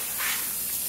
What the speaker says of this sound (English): This is a Spray Systems 9001 brand new jet. So we're spraying constantly through a #1 tip.